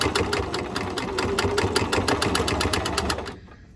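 Sewing machine stitching thick face-mask fabric, a fast even run of mechanical needle strokes heard up close, stopping abruptly near the end.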